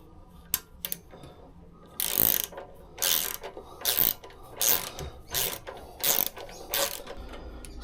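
A hex-bit ratchet clicks in repeated bursts while fastening a crash bar bolt on a BMW R1100GS motorcycle, the close, sharp ratcheting strokes coming in a steady rhythm with short pauses and no talking.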